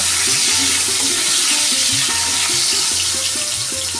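Salted potato pieces fry in a pan, a loud unbroken hiss of sizzling oil close by with a low repeating hum running underneath.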